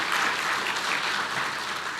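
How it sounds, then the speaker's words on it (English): A crowd at a State of the City 2020 address in Weslaco breaks into steady applause, a short, full and continuous wash of many hands clapping. "I think that deserves a round of applause."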